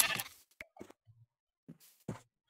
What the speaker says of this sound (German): Kann ich die Schaf damit füttern?